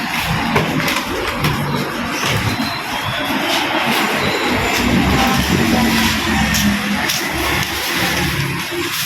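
A motorized three-wheeler's engine runs steadily throughout, a continuous rumbling drone with road and wind noise, fairly loud and close, with no talking.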